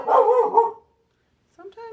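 A pet dog barks indoors, a burst of loud close barks followed by a brief pause and another short bark.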